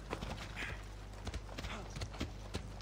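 A horse in Assassin's Creed Odyssey clip-clops along with quick, uneven hoof beats close by, over a low steady rumble.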